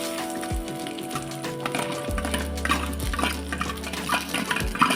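Shallots and curry leaves sautéing in a pan for rasam, an even sizzle with spoon stirring and occasional clinks against the pan, over a steady low hum.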